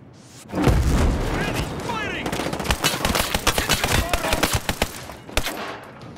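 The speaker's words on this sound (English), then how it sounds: "Mortar." Mortar explosions and gunfire in the Ghost Recon Breakpoint video game come as a sudden heavy boom followed by a dense run of rapid, sharp shots and blasts, loud and close, with a voice talking over them.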